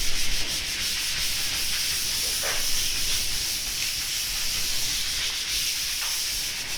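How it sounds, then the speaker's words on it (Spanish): Venetian stucco wall being hand-sanded lightly with sandpaper, a steady, close, continuous rubbing hiss with slight stroke swells, no voices. "Vamos a ir lijando, vamos a ir frotando la superficie"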